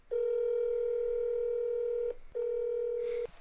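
A steady telephone tone plays as a call is placed, one long sustained beep, a short gap, then a second long beep, clear and close.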